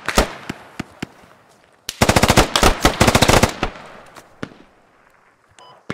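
Rapid automatic gunfire from a squad-based shooter video game, with scattered single shots, then a dense burst of bursts in the middle, fading to occasional distant pops while a player talks quietly underneath.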